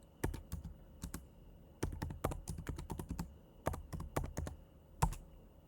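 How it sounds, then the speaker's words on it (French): Someone types a command on a computer keyboard while setting up a Prisma database, a steady run of crisp close keystrokes in quick bursts with short pauses, no voices. "Ensuite, il faut taper la commande npx Prisma init."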